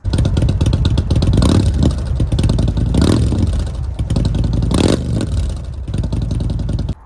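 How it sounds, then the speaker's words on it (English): A loud Indian Chieftain Dark Horse motorcycle engine with cams and a throaty aftermarket exhaust revs hard several times, rising and dropping between bursts over a rumbling, lopey idle. "This bike is equipped with some cams and an exhaust"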